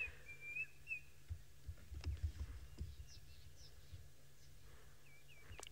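Green cuckoo calling in the wild on a safari outing, a few faint whistled phrases rising over a low rumbling background, with a soft repeated note returning near the end.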